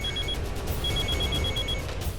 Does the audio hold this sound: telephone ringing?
yes